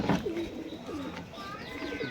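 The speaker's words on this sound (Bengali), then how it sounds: "এই যে পুরো ওড়ানোর পায়রা" Domestic low-flyer pigeons kept at a home loft in Ranaghat coo softly and repeatedly at close range, with soft chirps and rustling around them.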